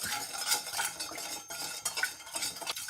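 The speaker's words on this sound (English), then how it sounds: "Just keep stirring it every now and again" A spoon stirs a dissolving sugar mixture in a pan for pickled beetroot, scraping steadily and close with continuous gritty swishes and a few light clinks against the metal.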